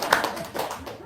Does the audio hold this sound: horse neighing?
no